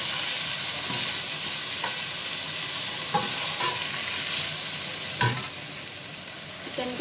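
Chicken pieces frying in a pan for spicy spaghetti, giving a steady close sizzle with a few sharp clinks of stirring scattered through, including a louder knock near the end.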